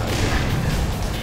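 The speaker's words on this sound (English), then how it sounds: "he threw a grenade." A grenade blows up in the first-person shooter Black Mesa, a loud, dense burst of low rumbling explosion noise lasting about a second.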